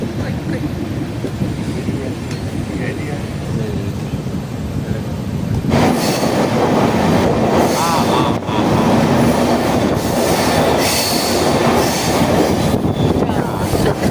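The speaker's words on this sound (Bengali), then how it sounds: "এটা রিভার্স জার্নি, ইঞ্জিন বদল হয়ে ট্রেন দিক পাল্টে নেয়।" A passenger train runs on rails on a hill route with tunnels, the wheel rumble and wagon rattle rising sharply about midway into a loud, continuous close clatter with faint squeals; no talking.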